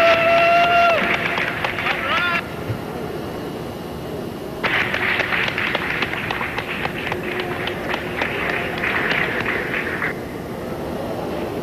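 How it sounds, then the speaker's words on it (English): Applause and cheering from a crowd at Johnson Space Center after the STS-3 Space Shuttle Columbia landing, a sustained clatter of clapping with a brief lull, heard under a commentator's voice. "We've got the applause here at the Johnson Space Center."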